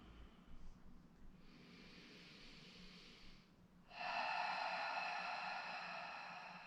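Slow, steady breathing during a yoga posture, soft airy breaths close up with a long, louder exhale swelling midway and fading gently toward the end.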